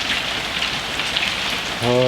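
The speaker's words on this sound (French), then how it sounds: "Mais il pleut, ça n'arrête pas là." Rain falls steadily outdoors during a storm at a house-building site, a close, constant patter on surfaces, with a short tonal hum rising near the end.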